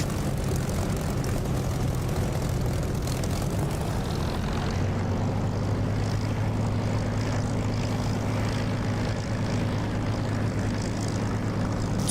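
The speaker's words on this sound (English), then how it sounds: "This is the sound of this Spitfire is not from DCS." Spitfire propeller engine from the DCS flight simulator game, a steady low droning roar that holds continuously throughout, settling into a deeper sustained hum partway in, with no talking.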